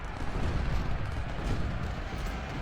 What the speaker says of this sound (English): Cannons are doing what they can.